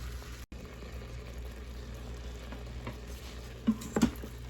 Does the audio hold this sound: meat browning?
yes